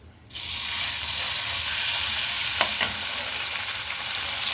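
Liver with garlic fries in a pan, a steady close sizzle that starts abruptly and holds loud and even, with a couple of brief clicks partway through.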